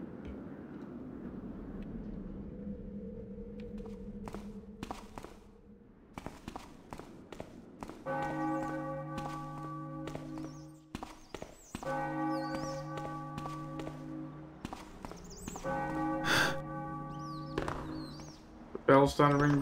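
A bell-tower bell in a Thief fan-mission video game tolls repeatedly, each stroke loud and ringing on, while footsteps and a voice sound around it.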